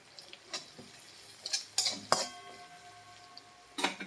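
Spoon scraping and clinking in a pan while mixing okra and fried onion with turmeric powder for masala bhindi, a handful of sharp metallic knocks and scrapes spaced irregularly, close and fairly quiet, no talking.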